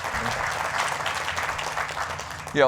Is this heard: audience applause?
yes